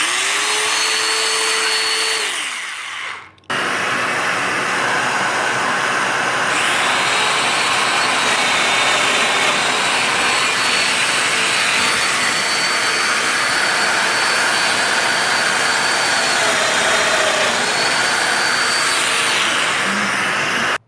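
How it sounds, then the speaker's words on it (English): A domino mortise machine, set to its widest setting, cuts mortises into a wood block. A brief hum cuts out, then the motor restarts as a loud, steady, close whine with small pitch shifts, running continuously for about seventeen seconds. "we're going to start the machine and turn it to the widest domino setting"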